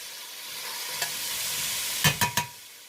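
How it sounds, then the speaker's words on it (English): Onions dumped into a hot pot for Jamaican tripe with butter beans and stirred, a steady close sizzle punctuated by one light scrape and then three quick clacks of the spoon against the pot. "We're going to dump our onions in. Give it a nice stir."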